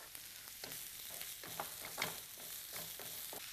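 Chicken and chopped spring onion frying over a high flame, a steady sizzle punctuated by repeated scraping stir strokes of a spoon in the pan, close and moderately loud with no talking.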